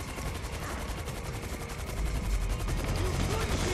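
Sustained rapid machine-gun fire from military forces in Grand Theft Auto 5, a dense continuous rattle filling the whole stretch and growing louder partway through.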